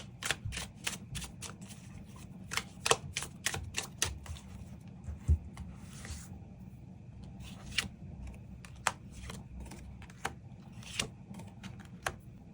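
Tarot cards are shuffled and drawn, giving quiet crisp clicks and snaps in irregular bursts over a faint background, with no speech.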